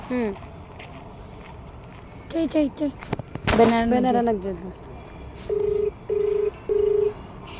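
Three evenly spaced phone dialing tones beep near the end, following a stretch of talking voices and background noise.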